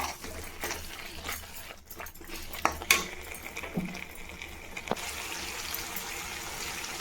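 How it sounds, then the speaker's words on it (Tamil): Ginger garlic pickle being stirred in a pan, with irregular scraping and clinking of a utensil against the metal, a few sharper knocks standing out over a soft sizzling background. "நல்லா கிளறி விட்டுக்கலாம்."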